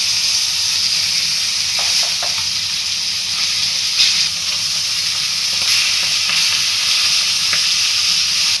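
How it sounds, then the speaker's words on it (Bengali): Silver carp pieces fry in hot oil in a pan, a loud continuous sizzle and hiss close up, broken by occasional scraping stirs and flips, with no one talking. "মাছগুলো তেলে ভাজা হয়ে গেছে"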